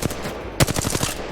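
Rapid gunfire from a weapon in Apex Legends at the firing range, a burst of sharp repeated shots following one loud opening crack, steady and close with no talk.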